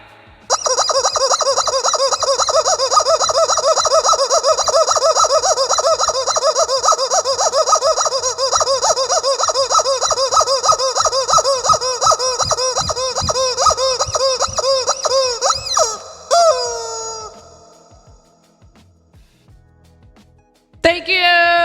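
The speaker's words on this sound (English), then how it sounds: "I'm going to squeeze this rubber chicken 49 times" A rubber chicken squeezed over and over, letting out a long run of loud, rhythmic squeaky squawks for about sixteen seconds, then a couple of trailing squeals and a final squeak after a brief pause.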